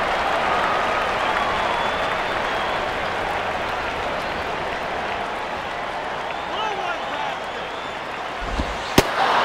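A steady stadium crowd roar follows a foul ball in the baseball video game MLB 07: The Show, a broad, even wash of cheering with a sharp thud near the end.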